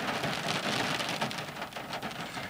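Heavy rain pouring down steadily, a dense continuous hiss of drops drumming on surfaces close by, with no voices over it.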